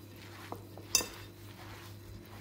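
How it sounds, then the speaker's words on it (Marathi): A spoon stirs semolina and gram flour in a bowl, making faint scraping with a few light clinks against the bowl, one louder tap near the middle. "आता हे आपल्याला सगळं मिक्स करून घ्यायचं आहे"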